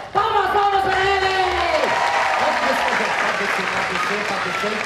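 Crowd at a large public event in Ariquemes applauding and cheering a game winner, loud sustained clapping with whoops and an electronic tone sliding down near the start.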